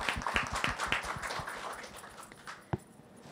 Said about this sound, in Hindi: जोर से ताली बजाओ ना